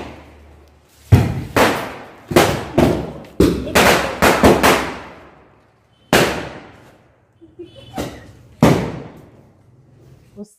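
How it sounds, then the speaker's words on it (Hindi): Firecrackers set off on a home veranda, about a dozen sharp, loud bangs close by, fired in quick clusters with pauses between and a few fainter pops near the end. "पटाखे की जोर से आवाज़ हुई।"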